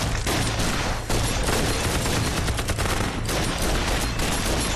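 Dense gunfire rattles on without a break, loud rapid bursts and shots in a wartime kung fu action film about fighting Japanese troops.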